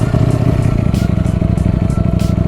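A motorcycle engine pulling away runs loud and close as a steady, throbbing rumble with a rapid pulsing beat, with brief higher whooshes layered over it and no voice.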